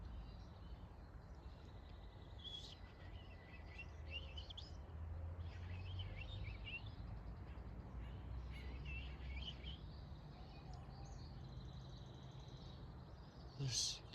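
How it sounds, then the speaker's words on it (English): Faint, far-off birds chirp and call intermittently in a quiet mountain outdoor setting, low under a soft background hush, with a voice speaking quietly. "So there's a whole bunch of other birds."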